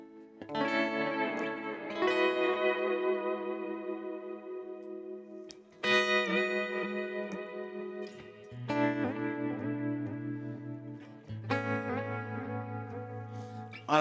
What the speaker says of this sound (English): Now I want more delays and reverb.